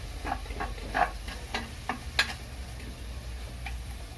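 Pork caldereta with potatoes and tomatoes being stirred in a cooking pot, light clinking spoon taps and scrapes in an irregular rhythm over a faint simmering sizzle, close and unaccompanied by speech.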